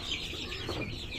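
Aseel chicks cheeping and clucking as they are let loose into a cage at night, a steady mass of soft peeping calls close by with no talk.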